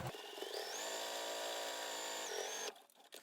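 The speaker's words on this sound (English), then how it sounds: "On this seam you will want to back stitch." Electric sewing machine back stitching a seam on surgical wrap fabric, a continuous close whirring motor hum with a shift in pitch partway through, stopping abruptly near the end, no talking.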